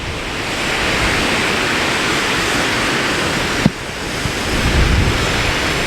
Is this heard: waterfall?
yes